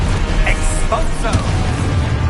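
Exposo blasting spell explosion in Hogwarts Legacy, a dense booming burst with sparkling magical pops over a continuous rumbling low-end backdrop, loud and close throughout.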